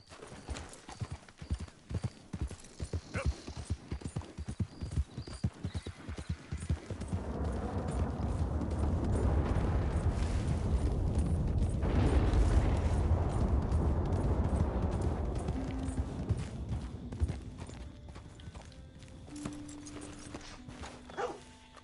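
Horse hooves clip-clopping in Red Dead Redemption 2, a steady rhythmic trot that builds into a dense, louder run midway before easing off, with a faint voice briefly over it.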